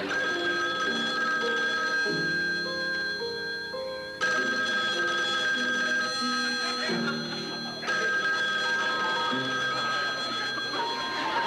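An indoor telephone rings repeatedly from across a room, its bell-like tones sounding in regular bursts at moderate distance with faint background noise and no clear talking.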